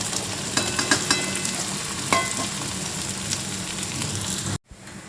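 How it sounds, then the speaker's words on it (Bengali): Onions frying in a pan until browned for a Bengali Bombay duck jhuri, giving a steady close sizzle with occasional stirring scrapes and clinks, cutting off abruptly near the end. "এই যে পেঁয়াজটা ব্রাউন কালার এসে গেছে, পুরোপুরি ভাজা হয়ে গেছে।"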